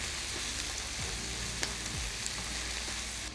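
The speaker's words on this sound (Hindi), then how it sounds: "और अब इसमें ऐड करूंगी मैं ये ड्रेन की हुई रेड चिलीज।" Drained red chillies sautéing in oil with ginger and garlic, a steady close sizzle with a couple of soft clicks and scrapes over a low hum, no speech.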